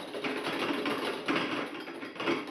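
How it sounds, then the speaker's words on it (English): Brisk metallic whisking of a butter sauce for poached eggs in a pan on the heat, a continuous rhythmic scraping whir close up with no voices. "Just keep whisking it."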